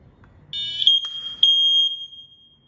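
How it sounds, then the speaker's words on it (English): A shrill, piercing smoke-alarm beep sounds close by as its test button is pressed, briefly stuttering before holding a steady high tone that cuts off. "If it's working correctly, it will beep."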